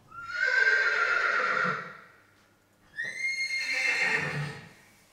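A recorded horse whinnies twice: two loud, drawn-out neighs, each lasting well over a second, separated by a short pause, with no talk around them.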